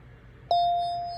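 A single bell sample in music software strikes once with a clean, sustained tone that rings on and slowly fades over a quiet background.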